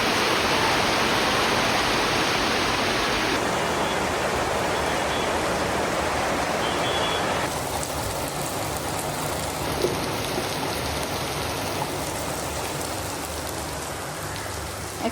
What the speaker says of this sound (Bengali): কি খুশি লাগতেছে, অনেকদিন পর বৃষ্টি।